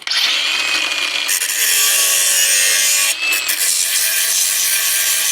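Pieces of metal hammer heads made from hammer drill bits are ground on a belt sander, a loud continuous whining abrasive roar with a brief dip where the piece lifts off, close and alone.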